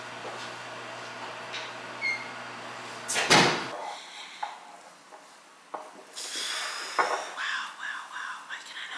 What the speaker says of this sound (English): I gotta shut this door because it's in my bedroom.